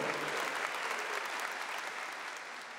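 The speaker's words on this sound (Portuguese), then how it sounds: "Essas palmas são para o Senhor Jesus" Church congregation clapping together, a steady, dense wash of applause filling a large hall, moderately distant and fairly even throughout.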